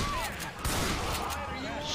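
Shotgun fire in the zombie shooter Left 4 Dead, a burst of repeated blasts and rattling gunfire in a busy game mix while a player talks over it.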